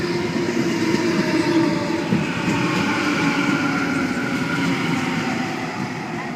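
A Sydney Trains passenger set, A63, running the Macarthur to Central service, rumbles past Panania station with a steady loud roll and clatter of wheels over the full stretch, no talking.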